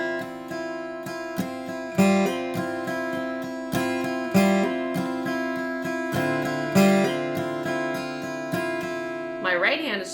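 Guitar chords strummed steadily in a down-up rhythm, with a note hammered on within the chord at intervals, ringing close and clear.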